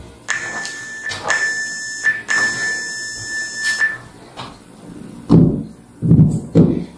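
Electronic workout timer during a standing dumbbell strength and conditioning session, sounding a series of sharp, steady tonal beeps in quick succession, then thumps and low clatter after the beeping stops.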